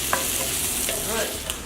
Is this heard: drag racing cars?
no